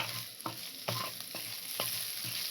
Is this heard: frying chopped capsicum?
yes